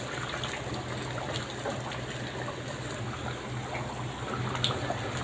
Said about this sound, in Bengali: আমি গরম পানি দিয়ে দিই